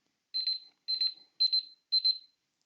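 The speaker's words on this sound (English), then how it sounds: "So you heard my alarm going off there." An alarm beeps in four evenly spaced bursts, each a rapid, high-pitched electronic trill, close and clear against silence.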